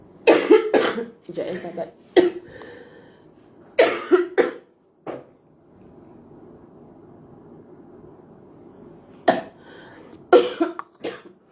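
A person coughs repeatedly in harsh clustered bursts close to the microphone, with a quiet stretch of low background rumble in the middle and brief speech mixed in.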